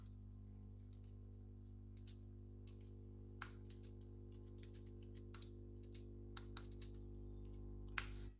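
Light, scattered keystrokes on a computer keyboard, faint clicks in short irregular bursts over a steady low electrical hum.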